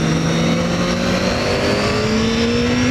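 A 600cc supersport motorcycle engine revs hard and close, its high-pitched wail climbing steadily in pitch over a few seconds with a loud, continuous tone.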